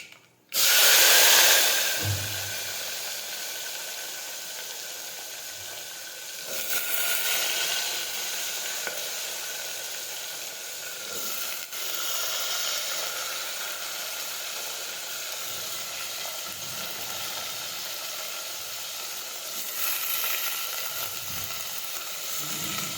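Chopped vegetables hit hot oil already crackling with mustard seeds and cumin, for an aubergine, potato, tomato, drumstick and cluster bean curry, setting off a loud burst of sizzling that settles into a steady, bright frying hiss with occasional stirring.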